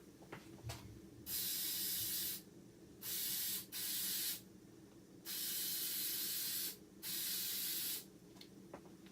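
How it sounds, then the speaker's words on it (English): Bursts of spray from a can or airbrush onto an O scale model tree, five sharp hissing blasts of a second or two each, separated by short pauses, fairly close, no talking. "we can literally just go right back over it and spray it again"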